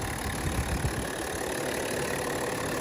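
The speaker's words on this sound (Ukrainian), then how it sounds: "Двигун працює як часи." A 2021 BMW X7 engine idles with a steady low rumble, continuous and fairly close, with no voices.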